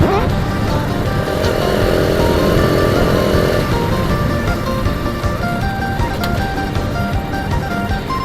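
A motorcycle ridden along the road, its engine droning loud and steady with wind rush, close and continuous, while a voice talks over it.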